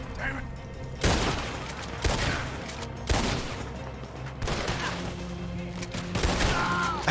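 Gunfire in Red Dead Redemption 2, a handful of sharp, loud shots spaced about a second apart, each ringing out with a short tail, over a background of game ambience.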